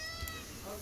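A cat meows softly, a drawn-out tonal cry over a quiet background hum.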